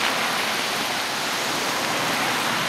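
Steady rain falling outdoors at a park with large banyan trees, a dense, even hiss that stays constant and fairly loud throughout with no voices.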